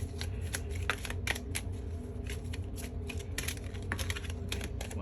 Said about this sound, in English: I want to shuffle my cards, but I don't want them to fly everywhere.